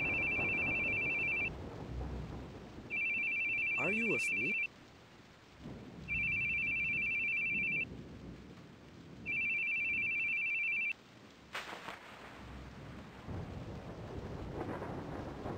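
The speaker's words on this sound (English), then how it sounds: "Your phone. Phone's ringing." An electronic phone ring in the video game The Boogie Man repeats in four evenly spaced bursts over low ambient rumble, with a brief spoken line and a whoosh mid-way.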